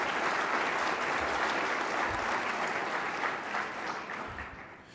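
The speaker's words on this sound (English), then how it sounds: "Please give yourselves a round of applause" Guests at a gala dinner applaud themselves, producing a full, steady wash of clapping from a large room that tapers slightly toward the end.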